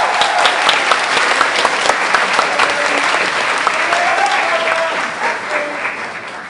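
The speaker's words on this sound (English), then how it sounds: "let's take a moment and give these incredible people a well-deserved round of applause" Sustained round of applause for the parents at an eighth-grade graduation ceremony, a dense crowd clapping steadily and loudly throughout before easing slightly at the end.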